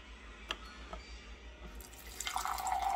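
A quiet trickle of water from a water purifier starts partway through and builds into a steady, brighter pour, with a couple of faint clicks before it.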